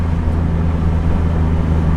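A BMW E30 with an S52 engine and a 3-inch exhaust holds a loud, steady low drone and rumble close by, with no talk over it.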